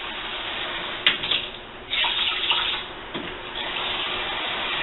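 Water runs and splashes steadily into a cooking pot for rice, a continuous close pouring rush with a few brief surges and clinks, no voices over it.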